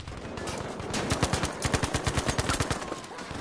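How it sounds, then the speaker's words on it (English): Rapid, rhythmic gunfire in a first-person shooter battle, a close string of sharp shots fired in quick succession over a noisy combat background. "I'm getting sniped from all around me."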